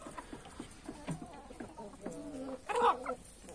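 An old naked neck rooster on a farm clucks quietly in a few short, scattered calls, faint and somewhat distant against a low background.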